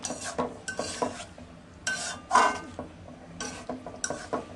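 Metal utensil scraping and clattering in a wok while onion, potatoes and bitter gourd are sautéed, with bursts of stirring and knocks in an uneven rhythm, close and fairly loud.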